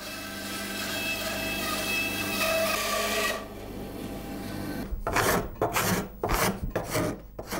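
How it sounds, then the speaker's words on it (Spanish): A steady hum of machinery gives way to rough, rhythmic rasping strokes of a rasp on wood, shaping parts for a chicotén string instrument, close and loud, several quick scrapes in a row. "es necesaria la acción de la lima, la cuchilla y el papel de lija"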